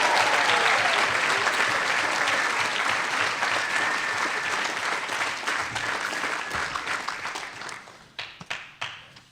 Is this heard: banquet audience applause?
yes